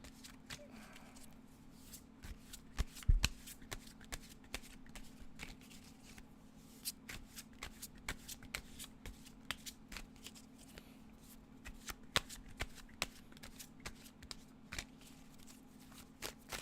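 A deck of tarot cards is shuffled over and over, giving quiet, close riffling and snapping bursts at an irregular pace, with faint soft speech in the background.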